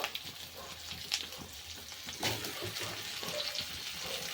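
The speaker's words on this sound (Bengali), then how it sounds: "এখানে আমি দিয়ে দিয়েছি আলু ওলকপি আর গাজর আর মূলোটাকে আমি একসাথে ভেজে নেব" Potato, kohlrabi, carrot and radish frying together in a pan for a mixed winter vegetable niramish dish, giving a steady close sizzle with faint crackles and a few brief stirring scrapes throughout.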